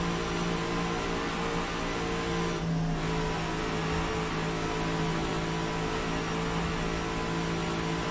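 Older V8 race car engine in rFactor 2 holding a steady, loud high-RPM drone with strong harmonic whine, briefly dipping for a moment as if lifting off the throttle, then continuing at a constant pitch.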